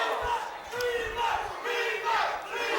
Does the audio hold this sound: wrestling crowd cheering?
yes